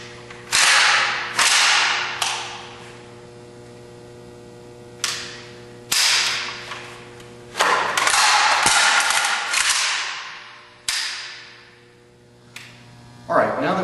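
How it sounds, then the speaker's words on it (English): AK-47 variant rifle magazine change from a support-side pouch, with sharp metallic clacks and snaps in bursts, a louder cluster of rattling handling noise midway, over a steady low electrical hum. "let's see how that works during a magazine change on an AK-47 variant"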